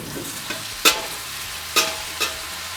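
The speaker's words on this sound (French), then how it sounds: "Mon beurre est fondu, j'ajoute mes fruits dans ma casserole." Fruit for a crumble sizzling in hot melted butter in a saucepan, a steady frying hiss with a few sharp crackles and stirring scrapes.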